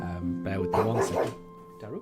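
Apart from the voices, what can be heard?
dog barking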